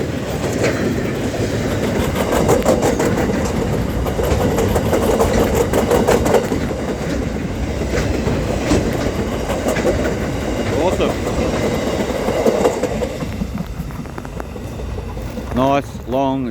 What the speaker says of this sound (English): Nice long train.